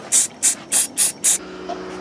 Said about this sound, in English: So we're just going to spray paint this black hosing white.